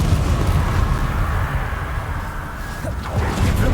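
An Incendio fire spell is cast in Hogwarts Legacy, giving a loud, continuous roaring rush of flame that holds steady for several seconds.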